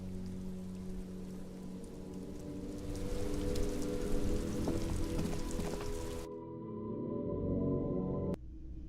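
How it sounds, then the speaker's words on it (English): Steady rain pours down in a rainy city scene from the video game Disco Elysium, a dense, continuous hiss that swells louder midway, then cuts to quieter sparse drips before resuming. "This rain will not let up anytime soon."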